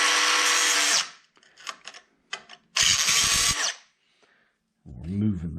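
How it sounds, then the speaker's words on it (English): A DeWalt DCS438B 20V brushless 3-inch cut-off tool runs in reverse through a bolt, two loud sustained bursts of whining cutting about two seconds apart, with rattling handling clatter between them and a voice at the end. "we'll go in the opposite direction now"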